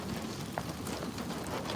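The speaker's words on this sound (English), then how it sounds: "It's really starting to rain now." Rain falls steadily outdoors during a Kansas supercell storm, a dense, even hiss of drops on surfaces, nearby and moderately loud, with no voices.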